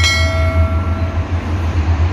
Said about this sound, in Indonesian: kita akan saksikan kereta cepat Red Komodo